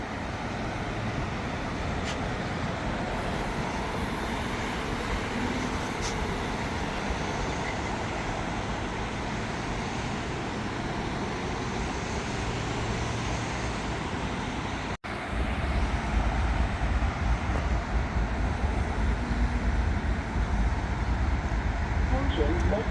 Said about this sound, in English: we got a ALP 45 DP with 8 multi-levels